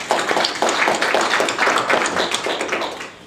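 An audience claps together at a talk honouring a remarkable town and its people, a dense, steady wash of many hands that runs loud and continuous before thinning slightly at the end.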